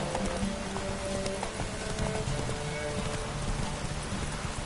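Roach the horse gallops in The Witcher 3, with steady rapid hoofbeats drumming close by under a constant rain-like wash and faint tonal background music, no talk.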